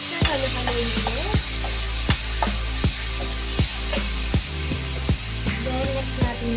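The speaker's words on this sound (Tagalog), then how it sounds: "Ilagay ng oyster. Halo-haloin ulit." Sautéed food being stirred in a pan after oyster sauce goes in, giving a steady sizzle broken by regular scraping strokes about every half second, close up with no talking.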